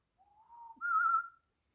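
A person in the woods whistles two short rising tones, the second louder and higher, mimicking a whistle; quiet and close with silence around it.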